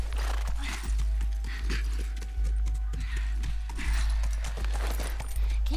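Horse hooves clip-clopping in The Last of Us video game, a steady galloping rhythm of hoofbeats close up, with a brief whinny-like tone partway through and no talk.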